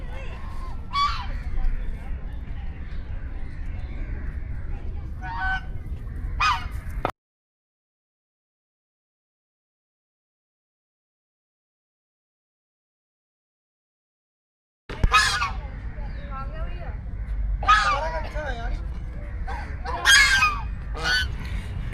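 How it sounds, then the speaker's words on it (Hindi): Waterfowl honk and call at a small pond inside a town park in Faridabad, the calls coming in bursts across two stretches separated by a silent gap, with steady outdoor background noise. "यहाँ इस टाउन पार्क के अंदर एक छोटा सा पॉन्ड बना रखा है, इसके अंदर डक्स हैं।"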